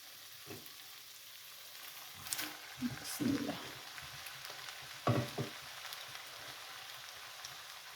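Chopped fenugreek greens dropped into a hot pan for an aloo methi bhaji, giving soft sizzling and a few stirring scrapes at a low level with pauses between.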